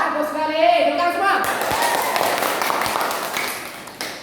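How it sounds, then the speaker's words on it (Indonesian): A classroom of primary school children clap together in a brief burst of scattered hand claps, close by and moderately loud, following a short stretch of talk. "Tepuk semua."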